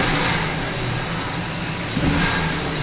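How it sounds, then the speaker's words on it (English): A 2004 Ford F150 with a 4R75W transmission, rebuilt and showing a problem, revs with the brake held, giving a loud steady engine roar with a slight rise near the end. "Now I'm going to hold the brake and press on the throttle."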